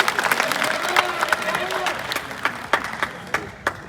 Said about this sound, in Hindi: पूरा सदन इन सब के लिए एक बार हाथ खड़े करके जोरदार तालियां करें